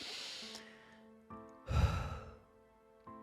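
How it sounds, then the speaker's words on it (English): A single deep breath, drawn in slowly and released in a soft, breathy exhale, heard close and quiet with faint background tones and no talking. "Let's take a deep breath together."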